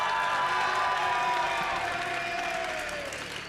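A large crowd cheers and applauds at the 2025 Pokémon TCG Regional Championships in Gdańsk, a loud, dense, sustained roar of clapping and shouting that eases slightly toward the end.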